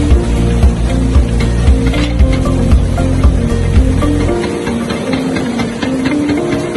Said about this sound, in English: we put the salt into the crusher machine and the machine crushes it into the